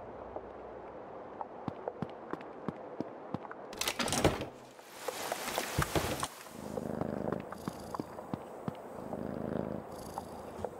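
A cat purrs steadily in the video game Creepy Tale 2, a soft, close, continuous rumble with rhythmic pulses, interrupted midway by a brief louder burst of noise.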